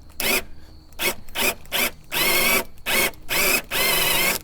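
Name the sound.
drill driving DeWalt screw extractor bit into screw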